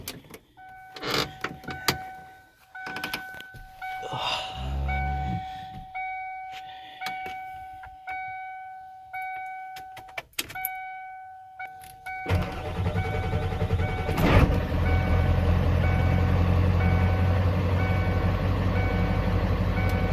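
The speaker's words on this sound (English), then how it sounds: "This is going to be my first time starting the truck." An OBS-generation pickup truck fitted with an add-on kit, started for the first time, cranks after a stretch of steady chime and ticking tones, then catches and settles into a loud, continuous idle filling the rest of the clip.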